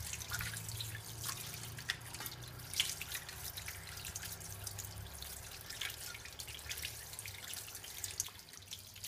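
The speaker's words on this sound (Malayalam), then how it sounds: "ഇനി നമുക്കിതിനെ കഴുകിയെടുക്കാം." Running tap water splashes steadily into a sink while hands are rinsed of soap, a continuous close trickle and patter with no talking.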